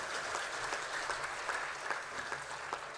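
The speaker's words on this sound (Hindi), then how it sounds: "मैं सभी संतों से चाहूँगा उन्हें और ताली बजाकर आशीर्वाद दें।" Audience of saints at a Hindu religious festival applauding steadily, a dense, sustained clatter of many hands clapping in a hall with no talking over it.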